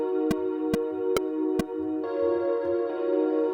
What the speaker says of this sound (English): So I found this bell under the Bells and Vibes, Bells Analog, and it's called the Calderon Reality P.